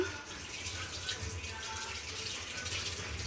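Tap water runs steadily while mint leaves are washed under it, a soft continuous splashing hiss at low level with faint kitchen sounds in the background.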